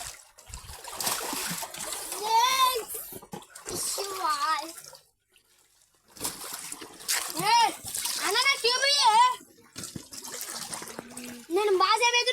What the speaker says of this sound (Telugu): ఇప్పుడైతే నేను ఈదుకుంటా పోతున్నా ఫ్రెండ్స్